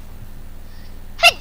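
After a near-silent stretch, a single short, sharp, high-pitched sneeze bursts out close by at the very end.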